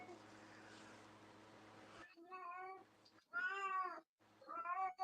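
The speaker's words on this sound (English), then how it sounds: "I hear a cat." A cat gives several drawn-out, wavering meows close by, three or four cries in a row, coming after a stretch of low background rumble with faint voices.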